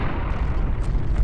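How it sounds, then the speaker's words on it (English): Missiles launching and exploding in the arcade shooter Beat Hazard Ultra, making a loud, rumbling wall of blasts with a few sharper bursts near the end. "Use all your missiles all at once!"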